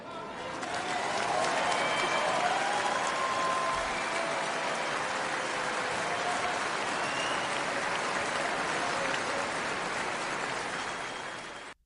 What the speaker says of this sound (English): Very long, sustained applause for her last night.